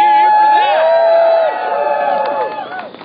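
Crowd at an Occupy town square gathering cheers and whoops loudly, a dense wash of voices that swells early then eases off over about three seconds.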